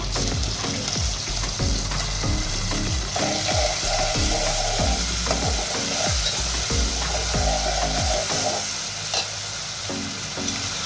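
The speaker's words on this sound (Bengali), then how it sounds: "এখন চিংড়ি মাছটা দিয়ে দিচ্ছি।" Prawns fry in spice paste in a pan, giving a loud, steady sizzle with repeated stirring scrapes throughout and no voices.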